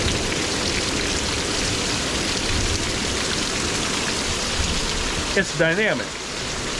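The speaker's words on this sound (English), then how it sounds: "When it rains, especially a rain like this," Heavy rain pours steadily in a dense, hissing wash, with water streaming loudly off a roof; a brief voice speaks near the end.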